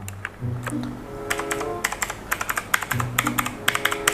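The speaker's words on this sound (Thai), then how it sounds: "คีย์บอร์ดนี่เป็นคีย์บอร์ดโมโตสปีดนะครับ เป็นคีย์บอร์ดแบบ แมคานิคอล บูสวิตด้วยนี่คือกดแล้วเสียงมันก็จะเป็นอย่างนี้ เดี๋ยวกดให้ฟัง" Keys clacking on a Motospeed mechanical keyboard at a computer desk, a quick run of crisp close-up taps in bursts, with someone talking between and over the keystrokes.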